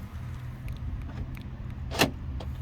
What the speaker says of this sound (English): we're going to unlock it, and all I'm doing is just hitting the unlock button